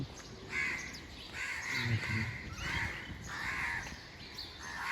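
Crows caw repeatedly at dawn on a foggy winter morning in Dhaka, in a series of harsh, moderately distant calls over faint city ambience.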